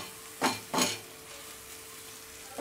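Mashed boiled potato is mixed with salt and spices in a pan, two quick scraping strokes followed by a faint steady sizzle.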